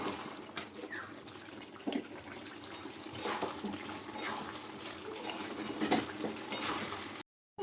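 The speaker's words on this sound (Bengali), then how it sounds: "এবার গ্যাসের ফ্লেমটা বাড়িয়ে এবার ভালোভাবে কষিয়ে নেবো" Chicken curry with potatoes being stir-fried hard in a pan over a raised gas flame, with a steady close sizzle and scattered scraping spoon strokes against the metal throughout.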